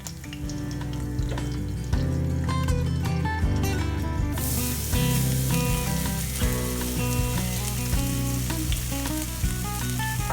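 Thinly sliced onions and green chillies frying in ghee for ghee rice give a steady, continuous sizzle that runs throughout, with background music underneath.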